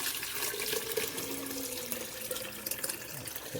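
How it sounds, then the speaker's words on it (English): Soursop tea for a natural cough and cold remedy pours steadily into a container of other ingredients, giving a continuous close splashing, trickling flow of liquid with no talk. "now we're going to pour the soursop tea with the rest of the ingredients"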